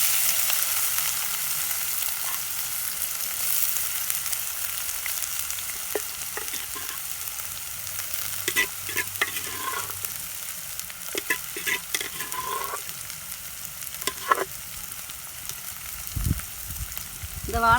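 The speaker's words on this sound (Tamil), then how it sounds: "வாழைக்காய் இப்போ நான் வேக வச்சிருக்கூடிய வாழைக்காய் இதில் போடுறேன்." Boiled raw banana pieces fry in a pan and get stirred, a steady close sizzle with scraping and clattering spoon strokes coming in bursts over the hiss.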